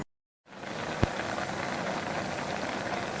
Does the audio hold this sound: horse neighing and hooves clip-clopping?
no